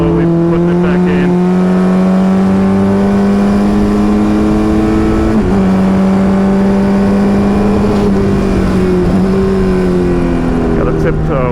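Race car engine held at a steady, slowly rising throttle on a wet Summit Point Raceway circuit, a loud continuous drone heard from inside the cockpit with a brief dip mid-run, and a driver talking over it.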